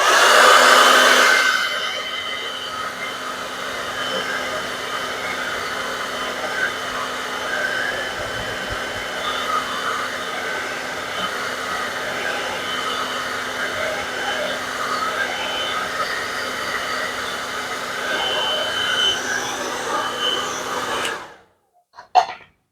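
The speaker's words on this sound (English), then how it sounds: "And then maybe I'm gonna use my hair dryer." A hair dryer blows steadily over wet acrylic paint for about twenty seconds, a loud continuous whir with no talk, then cuts off abruptly near the end followed by a brief knock.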